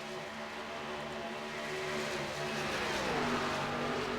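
Race cars on a track in a racing league event, engines whining and rising in pitch as they accelerate past, a steady roar that builds toward the end, with no talk.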